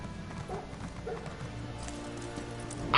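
Horse hooves clip-clop in Elder Scrolls Online: Greymoor, a steady run of soft, evenly spaced footfalls at moderate volume under faint rain-like ambience, ending in a brief louder burst.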